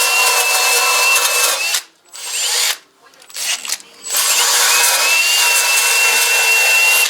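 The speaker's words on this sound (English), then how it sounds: "sometimes you got to take a wire brush on a drill" A power drill spins a wire brush against metal on a Ford F350 7.3 turbo diesel transmission in a loud, harsh whir, stopping briefly twice before running steadily again.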